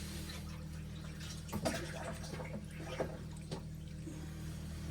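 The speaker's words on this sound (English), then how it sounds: "I have this tube here that I've got, and I'm just going to drain the skimmer" Water drains from an aquarium protein skimmer through a tube as a quiet, steady trickle over a constant low pump hum, with a few soft knocks along the way.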